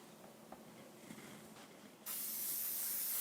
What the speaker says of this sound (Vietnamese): xịt thêm một lớp dầu ăn lên nữa nhé